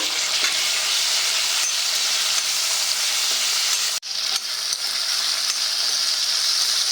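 Ingredients for okra chutney sizzling in a pan of hot oil: a loud, continuous frying hiss that briefly cuts out for a moment midway, then resumes at full strength.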